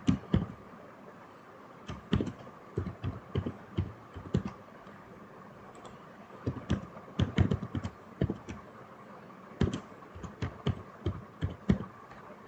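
Password being typed on a computer keyboard: a run of light, quick key clicks in short irregular bursts with brief pauses, fairly close, over a faint steady hum and no talking.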